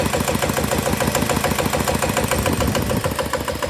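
A small single-cylinder ET diesel engine fitted with an RT fuel injector, still running rough with leaking valves, idles steadily nearby with a rapid, even knocking beat and constant loud mechanical clatter throughout.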